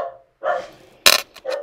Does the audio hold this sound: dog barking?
yes